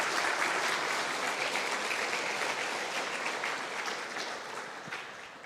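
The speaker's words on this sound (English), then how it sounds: "Another round of applause, please." Sustained, dense applause fills a conference hall at the Ardupilot Developers Conference 2025, steady and loud at first, then easing slightly toward the end, with no voices over it.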